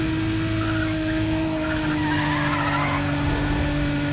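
A continuous droning car engine from the video game Need for Speed ProStreet, with a buzzy, nasal tone, holds steady, loud and close, with a slight squealing edge.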